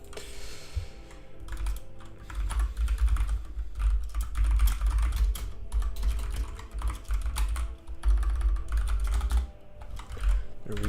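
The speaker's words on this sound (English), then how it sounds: "I actually cannot type." Someone types on a computer keyboard up close with quick, irregular key taps, continuous over a low background hum.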